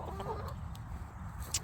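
Backyard roosters cluck in a low, steady murmur of fowl sounds, with a few brief sharper calls, close by and fairly quiet.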